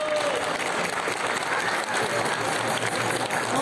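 A crowd claps loudly and continuously at a capoeira batizado and graduation ceremony, dense steady applause filling the space throughout.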